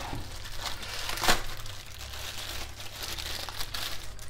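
Plastic wrapping crinkles and rustles steadily as a Logitech Z533 2.1 speaker set is unpacked, with one sharper crackle near the start over a low background hum.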